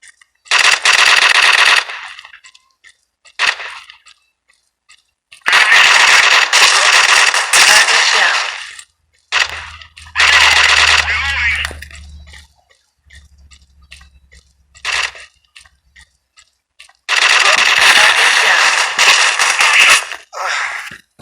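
A standard pistol fires in the Strike Team Online shooter game, with several loud bursts of rapid shots separated by silences, plus a few single cracks and a low rumble partway through.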